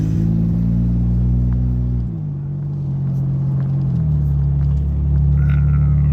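A car cruising around town heard from inside, a steady low engine rumble whose pitch drops and shifts as the gears change, loud and continuous.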